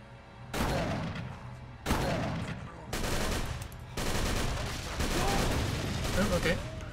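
Bursts of rapid gunfire in the horror game Call of Cthulhu: Dark Corners of the Earth, several loud volleys in quick succession with brief gaps, dense and close amid the tense action.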